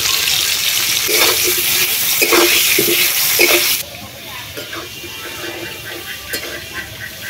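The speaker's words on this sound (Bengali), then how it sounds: "বেশ অনেকগুলো কাঁচা আম ওই তেলের মধ্যে দিয়ে দিচ্ছি" Raw green mangoes hit hot oil with a loud, rushing hiss that later settles into a quieter sizzle, with a few sharper bursts and spatters along the way.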